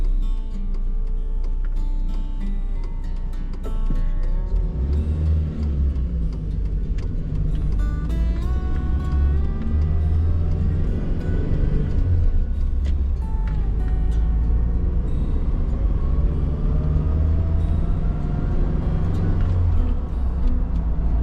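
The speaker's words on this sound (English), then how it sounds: "the Porsche, it whines a lot more" A Porsche engine whines steadily and loudly throughout a manual-transmission drive, a continuous low drone with rising and shifting tonal lines as revs change, alone without talk.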